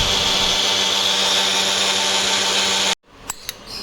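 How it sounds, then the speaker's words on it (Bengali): A kitchen grinder whirs loudly and steadily for about three seconds, blending mango for juice until smooth, then cuts off, leaving a couple of light knocks. "এবার একটা গ্রাইন্ডারে মিহি করে নিতে হবে"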